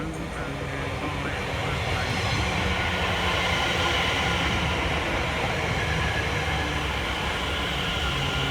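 A London Overground Class 710 pair, units 710108 and 710117, rumbles past at Edmonton Green station with a steady, loud roll of wheels on rails, heard close and continuous.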